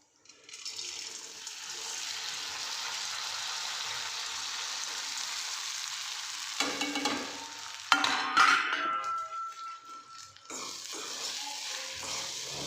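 Sago pearls cook in hot oil in a pan for sabudana khichdi, giving a steady sizzle. Clattering stirring sounds come in later. No one speaks.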